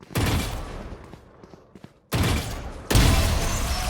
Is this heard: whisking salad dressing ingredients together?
no